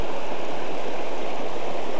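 River water rushes over rocks in a steady, loud, close broadband roar with a gurgling texture, continuous throughout and with no voices.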